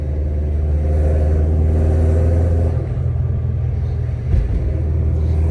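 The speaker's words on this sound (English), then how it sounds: "I hear that little bit of flutter. The wastegate wanted to open up so bad" Turbocharged Subaru Baja with an external wastegate revving under load in a higher gear, a loud low engine rumble close by that holds steady, then dips briefly with a fluttering rush near the end.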